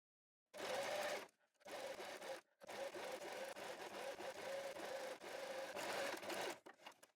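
A sewing machine stitching bias binding tape, with close, steady motor-driven stitching runs broken by a few short pauses, then a final burst that stutters to a stop.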